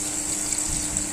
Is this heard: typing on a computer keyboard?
no